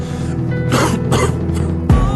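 A person coughs and clears their throat several times, loud and close, with a sharp rasping burst near the end.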